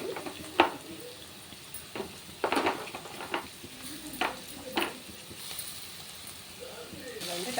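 Onions and ginger paste frying in a pan for mushroom curry give a soft, faint sizzle punctuated by intermittent spoon scrapes and clinks, with a voice talking now and then.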